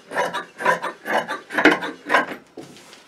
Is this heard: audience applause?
no